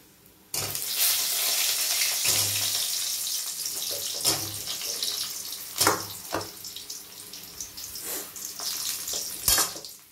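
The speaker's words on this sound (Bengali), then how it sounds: "এবার আলু বেগুনটাকে ভেজে নেব। প্রথমে আলুটাকে ভেজে নেব।" Potato pieces frying in hot oil for a Bengali tilapia mustard curry with potato and brinjal, a loud steady close sizzle that starts abruptly, broken by occasional clatter and stirring sounds.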